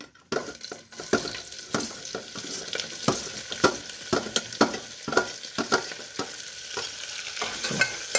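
Onions frying in a pan for chicken soup, crackling sizzle broken by frequent stirring scrapes and light clatter of a utensil, near and steady without speech.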